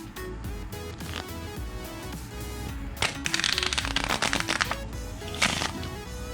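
Playing cards are riffle shuffled, first as scattered light taps and then as a quick rippling flutter of card edges snapping together, near and soft, with no voices.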